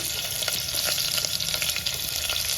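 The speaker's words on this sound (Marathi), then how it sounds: "कढीपत्ता एकदम घातला ना तर एकदम असा तडतडा आवाज येतो" Curry leaves crackle and sizzle in hot oil in a cooker, a close, busy frying hiss dotted with sharp pops, steady throughout and without talk.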